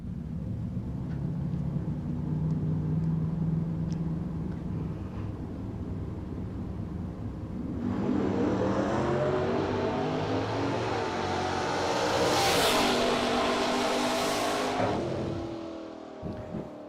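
Drag race cars, a Chevy II and a Mustang, roar at the line, a loud sustained engine drone building into a rising rev and launch midway, then fading toward the end.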